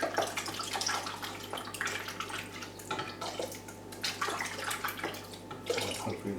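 Soapy solution is swilled around inside a bottle with water, giving a steady, continuous sloshing and gurgling that is fairly close and carries on without a break.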